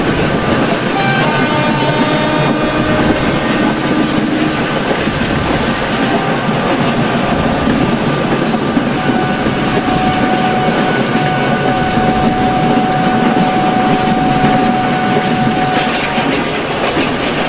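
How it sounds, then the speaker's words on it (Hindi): A WCAM 3 electric locomotive hauls an Indian express in the MSTS Open Rails simulator, a loud continuous rumble with rhythmic clickety-clack and sustained horn-like tones running through the whole stretch. "W cam 3 locomotive."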